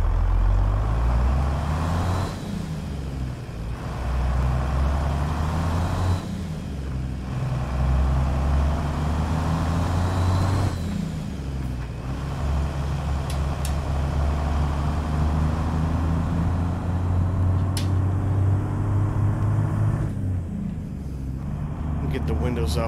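An International 9800i truck with a 625-horsepower Zeemods N14 engine in American Truck Simulator drones steadily and loudly, its pitch rising through repeated gear pulls, with several brief dips between shifts and a few short high hisses late on.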